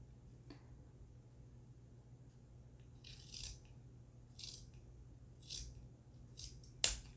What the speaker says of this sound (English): you're going to cut these little extras off.